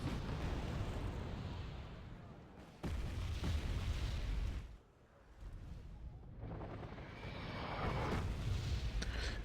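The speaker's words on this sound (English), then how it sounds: "And the artillery really never stopped." Artillery fire in the video game Wargame AirLand Battle, continuous rumbling blasts and booms that merge into a dense barrage, with a short dip in the middle before the roar builds again.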